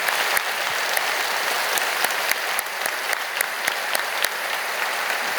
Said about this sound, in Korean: 우리 기도원 선교회 위해서 여러분 크게 박수로 감사를 표하십시오.